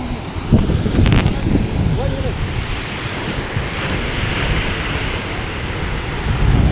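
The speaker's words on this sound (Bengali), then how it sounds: "জলের ঢেউ।" Sea waves surging on the beach at Cox's Bazar, a steady broadband wash of surf with wind buffeting the microphone and a few low thuds, continuous and fairly loud throughout.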